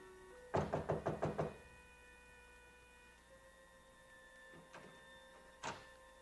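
Knuckles rap on a hotel suite door in an old radio drama: a quick run of about seven sharp knocks, then a softer pair and a single knock after a pause, with faint hum between.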